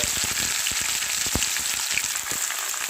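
Chopped green beans fry in a hot pan, giving a steady close sizzle with faint crackles and one brief stirring scrape, and no voices.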